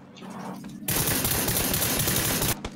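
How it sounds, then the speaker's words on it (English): Gunfire in the video game PlayerUnknown's Battlegrounds, a sudden sustained burst of rapid automatic shots that cuts in after a quiet start and stops abruptly, loud and close. "Do you hear those shots though?"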